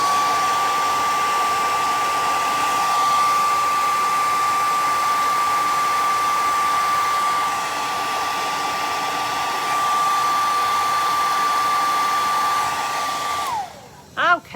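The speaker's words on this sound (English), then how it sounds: "I am going to just grab the blow dryer" A hair dryer drying paint blows loudly and steadily with a constant whine for over ten seconds, then winds down and clicks off.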